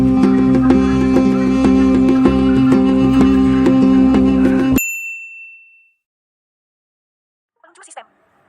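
A bright bell ding rings out once over busy background music, its tone hanging briefly before silence, then a faint short rustle.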